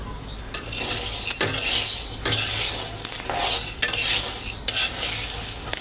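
Chickpea lentils (chana dal) being stirred and fried in oil over low heat in a pan for Bangladeshi halua, with steady scraping of a spoon against the pan and a soft sizzle, in close repeated strokes.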